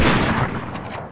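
A loud burst of rapid gunfire in a Fortnite zero build match, dense and close, fading slightly over about a second.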